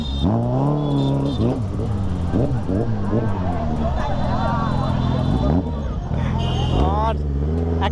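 A Suzuki Hayabusa motorcycle engine revs repeatedly with throttle at a Durga Puja street celebration, pitch climbing and falling in close, loud sweeps among shouting voices.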